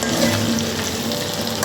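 Ginger and garlic sizzling in hot oil in a pan, along with green chillies, while cooking potato pulao: a loud, continuous dense frying hiss with no pauses.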